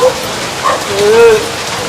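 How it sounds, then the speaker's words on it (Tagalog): Steady heavy rain hisses across a surface, a dense, even wash of noise up close, with a brief faint tonal sound partway through. "Lakas ang ulan eh"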